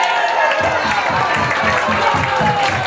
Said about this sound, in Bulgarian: нека посилните аплодисменти на всички вас